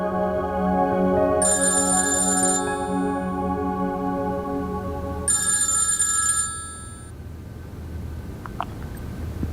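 A telephone bell ringing in a drama scene, two loud trilling rings a few seconds apart over a steady tonal background, ending before a quiet pause.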